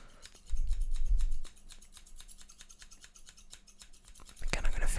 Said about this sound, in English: I'm going to finish it off with some rapid fire snips